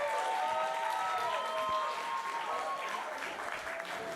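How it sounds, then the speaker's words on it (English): Guests at a sangeet celebration break into sustained applause, with many hands clapping steadily while cheerful voices and a tonal melodic element ring through underneath, slowly easing toward the end. "Everyone, one more round of applause."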